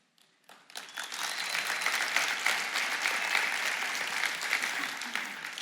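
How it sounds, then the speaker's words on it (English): After a near-silent moment, a modest audience breaks into scattered but continuous applause that holds at an even level for several seconds. "a little bit of spattering of applause in here indicates I'm not"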